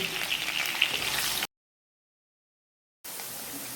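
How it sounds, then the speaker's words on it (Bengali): Potatoes frying in oil previously used to fry fish, a steady bright sizzle that cuts out completely midway and then resumes, loud and close with no talking. "মাছ ভাজার তেলেই আলুগুলো ছেড়ে দিচ্ছি।"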